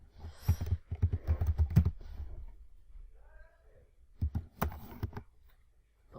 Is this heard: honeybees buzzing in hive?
no